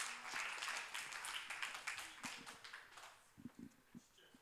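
Applause from a congregation at a church high school youth worship service: a dense, steady wash of clapping that thins toward the end into a few louder, scattered claps.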